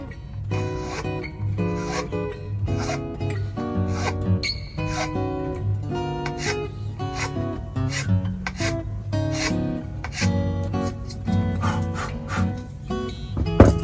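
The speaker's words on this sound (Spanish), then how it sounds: "empezar a limar por fuera o en el exterior del bambú, lo haré en los lados laterales de la escotadura" A rasp files the outer sides of a notch cut in a bamboo quena flute, repeated scraping strokes in a steady rhythm, close and distinct, with background music running underneath.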